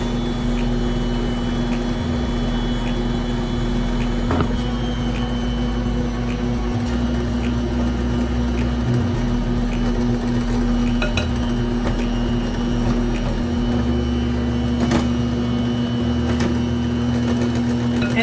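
Electric mixer whirring steadily as an egg is mixed into pineapple upside-down cake batter, a constant motor hum with a few brief clicks and bumps, close and loud with no talking.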